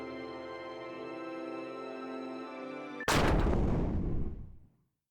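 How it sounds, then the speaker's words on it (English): A single loud gunshot in a video game as Nicola fires her gun, a sharp blast that cuts through a sustained musical tone and rings out for over a second before falling silent. "Nicola pulled the trigger of her gun."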